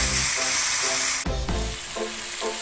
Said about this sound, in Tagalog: pakakaramelizein muna natin o patuto na palalambutin mabuti ang kamatis